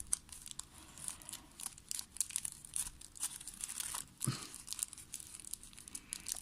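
Origami paper for a spinosaurus model crinkles and rustles softly up close as it is pressed and folded inward, with small scattered crackles and one sharper crease sound.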